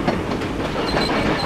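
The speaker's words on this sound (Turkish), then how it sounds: "Üstümüze doğru görüyorsunuz arkadaşlar trenler geliyor." Trains approaching on rails in the Hugo video game: a steady rumble with a faint rhythmic clatter, loud and continuous, with no voice over it.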